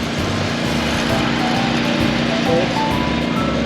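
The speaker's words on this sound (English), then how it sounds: "Pressure cleaning." A pressure washer cleans the outside of a house, its engine droning loud and continuous with a steady high whine, close by and unbroken throughout, with no talk.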